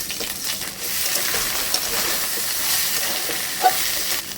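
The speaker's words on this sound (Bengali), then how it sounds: "চালটা ভাজা ভাজা হয়ে এসছে, ঘি দিয়ে দিচ্ছি, গোটা গরম মশলা দিয়ে দিচ্ছি" Washed rice fries in ghee with whole garam masala for a pointed gourd pulao, crackling in a steady close sizzle with a couple of light scraping taps from stirring.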